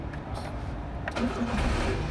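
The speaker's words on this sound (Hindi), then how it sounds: "ये देखें गाड़ी स्टार्ट हुई और बंद होगी।" A Toyota XLI with an ignition coil or ECM fault has its engine started, a brief crank that catches into a low, rumbling run, heard close.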